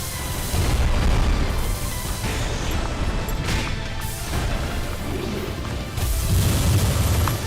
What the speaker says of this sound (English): That moment where you get the missile pods timed just right so you can just spam them that much